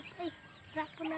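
Chickens clucking softly in the background outdoors, a few short calls spread across the moment, faint and partly under nearby talk.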